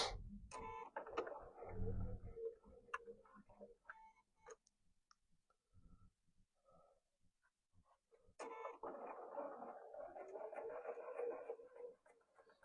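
Bernina sewing machine running piping through with piping foot #38; two bursts of rapid mechanical stitching whir at the start and again after a quiet pause, with faint clicks in between.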